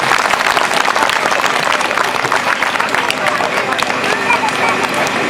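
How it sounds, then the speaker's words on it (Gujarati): An audience claps steadily at a school annual function, a dense sustained wash of applause with crowd murmur mixed in, loud and continuous for the whole stretch. "તાળીઓનો ગડગડાટ સતત ચાલુ."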